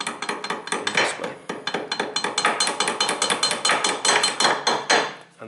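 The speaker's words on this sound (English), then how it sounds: "next step is to start hammer this pin out in this direction" Repeated metal hammer blows drive a pin out of a car driveshaft during ABS sensor ring cleaning, a fast, steady run of sharp, ringing clanks, close and loud throughout.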